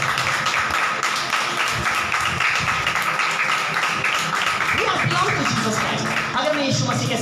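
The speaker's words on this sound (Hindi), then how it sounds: "प्लीज बिग हैंड जोरदार यीशु मसीह के लिए ताली को बजाएं।" Church congregation at a Sunday service claps hands continuously, a dense, loud wash of applause with voices mixed in throughout.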